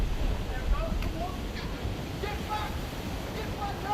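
Rough sea surf rolls and washes along the North Yorkshire coast, a continuous roar mixed with wind buffeting the microphone, and murmured voices sit faintly underneath.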